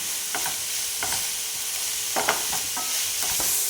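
Carrot, capsicum and cabbage stir-fry on full flame for chicken spring roll filling, a constant bright sizzle with a handful of sharp spatula scrapes and tosses close by, no voices.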